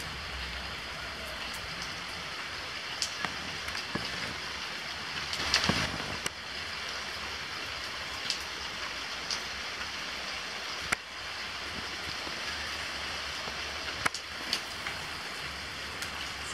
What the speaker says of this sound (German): Es regnet seit langem mal wieder, was wunderbar ist, weil es dann abkühlt.